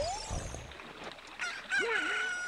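A chicken crows in The Legend of Zelda: Ocarina of Time, giving one rising and falling cock-a-doodle-doo and then a second higher crow, over quiet game music.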